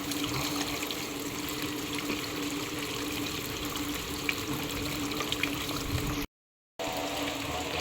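Steady rushing water flows continuously, a full, even stream with no voices, briefly cutting out near the end.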